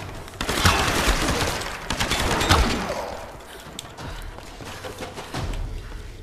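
Rapid bursts of enemy gunfire in the Tomb Raider video game, dense crackling volleys for several seconds that thin into scattered shots, loud and close with no talk over them.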